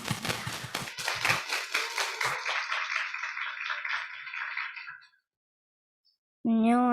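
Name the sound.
audience applause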